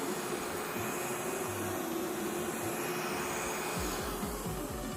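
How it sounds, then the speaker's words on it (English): A eufy E25 robot vacuum cleans under a bed, giving a steady, close motor whir and broadband suction hiss that hold evenly throughout, with faint low bumps and knocks near the end. "Another amazing thing about this robot vacuum is it can go straight under the bed"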